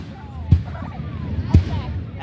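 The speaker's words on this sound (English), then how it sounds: "You can tiny. hear the booms over there." Fireworks boom in the distance, two dull low thuds about a second apart over faint background murmur.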